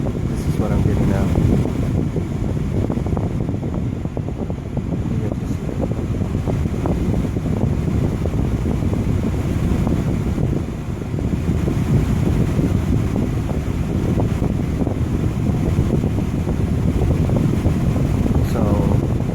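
Air conditioning on a 1998 Acura Integra blowing after a system recharge, a steady whooshing fan and airflow hiss inside the car with brief rustling along the way.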